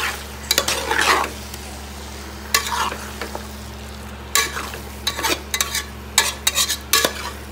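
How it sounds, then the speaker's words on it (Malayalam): Chicken being stirred with masala in a pan, a run of scraping, sizzling strokes in bursts with short pauses between, close and fairly loud over a steady low kitchen hum, no talking. "നമുക്ക് നന്നായി മിക്സ് ചെയ്ത് കൊടുക്കാം"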